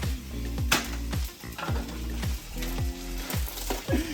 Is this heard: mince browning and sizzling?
yes